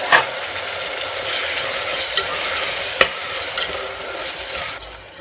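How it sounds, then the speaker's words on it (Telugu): Green chilies with turmeric and salt being stirred in a frying pan over onions, a loud continuous sizzle with scraping strokes and a few spoon knocks, fading near the end, no speech. "పచ్చిమిర్చి కూడా వేసాను. ఇప్పుడు బాగా తిప్పేసుకోవాలి."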